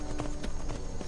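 A horse walks in the video game Skyrim, its hooves clip-clopping in a quick regular rhythm, close and fairly loud.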